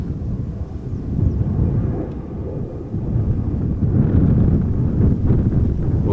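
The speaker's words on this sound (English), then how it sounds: "Oh, and the wind is picking up a little bit." Gusting wind batters an outdoor microphone at an airport, a loud, rumbling low roar that swells and eases over several seconds with no voices.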